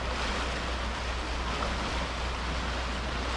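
A tributary of the North Thompson River rushes in June high water with mountain snowmelt, a dense, steady roar of flowing water with no voices.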